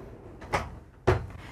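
A closet pullout drawer in a 2023 Newmar Essex 4521 motorhome slides, giving two short, soft knocks about half a second apart in a quiet room.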